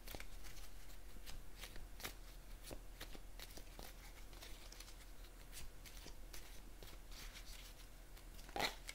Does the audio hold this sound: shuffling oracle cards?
yes